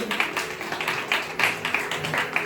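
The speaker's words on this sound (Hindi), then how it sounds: "सब लोग मिलके ताली बजाएंगे" A church congregation claps hands in welcome, a quick patter of many hands at moderate distance, fairly soft and steady, with little talk over it.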